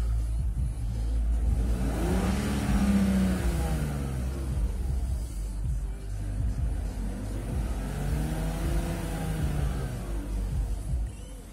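A 1999 BMW 323i engine revs up and settles, rising and falling in pitch twice, close by with a steady mechanical hum underneath.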